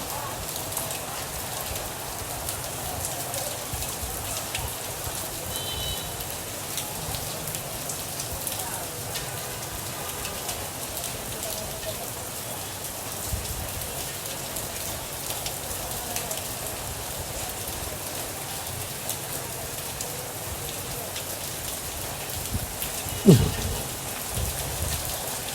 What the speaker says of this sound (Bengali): বৃষ্টির আওয়াজ শুনতে পাচ্ছ তোমরা?